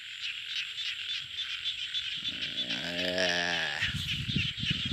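Small frogs croak in dense, continuous chorus after rain has filled the water, a loud rhythmic rattling that swells midway with a nearer throaty call, steady insect-like trilling underneath.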